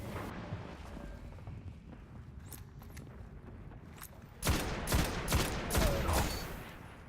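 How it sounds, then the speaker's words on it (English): Rifle gunfire in the Destiny video game, a run of fast, punchy shots rapidly following one another after a few seconds of low ambient rumble, loud and close with no speech. "This gun is a 3-shot rifle. It kills in 3 shots."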